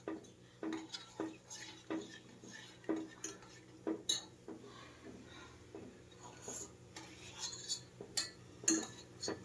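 A spoon stirs instant coffee in a cup to dissolve it, giving repeated light clinks and scrapes of metal against ceramic in an irregular rhythm, close and fairly faint over a low steady hum.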